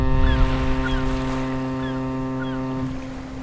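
A ferry crossing at sea between Merak and Bakauheni sounds a deep, steady horn blast that carries for several seconds over continuous ship and water rumble, with faint chirping calls above it and no voices.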